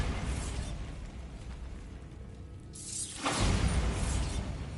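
A Bombarda spell cast in Hogwarts Legacy erupts into a booming explosion with a crackling burst about three seconds in, rising out of rumbling combat ambience.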